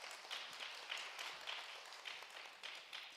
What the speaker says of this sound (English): A warm round of applause for Ambassador Puja.